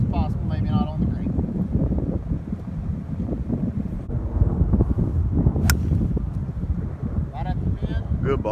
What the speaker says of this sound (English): The wind definitely picked up.